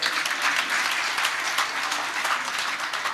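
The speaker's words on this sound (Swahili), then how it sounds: "Wapi makofi ya wafanyikazi wetu wa nyumbani tafadhali?" An audience claps in continuous, steady applause for domestic workers from Kawangware at an International Domestic Workers Day event, a dense wash of many hands sustained from start to finish.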